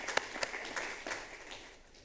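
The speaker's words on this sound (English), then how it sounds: "I just would like you to give them all a round of applause" Audience applause at a technicians' sustainability and innovation conference, a steady wash of many hands clapping with a few sharper claps standing out, moderately loud and continuing throughout without speech.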